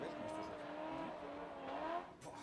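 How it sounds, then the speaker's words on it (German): A drift car at a race track accelerates with a sustained, droning engine note and a rising pitch near the end, heard at a distance beneath a continuous wash of crowd and ambient noise. "Und der Drifter gibt Gas."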